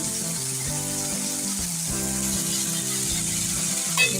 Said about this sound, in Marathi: दोडका भाजलेला आहे कामाला घालते आहे आपण थोडासा परतून घ्यायचा